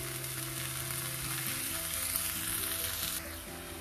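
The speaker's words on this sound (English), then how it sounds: "Because the tomatoes were raw, so we need to fry them properly till they get cooked" Tomato puree sizzles and fries in a pan for cauliflower tikka masala, a steady close crackling hiss that drops slightly in intensity near the end, with no talking.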